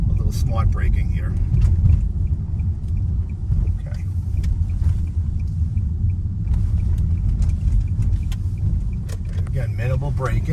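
Steady low road rumble from inside a car coasting around town with minimal braking, a continuous engine and tyre drone running throughout with someone talking over it.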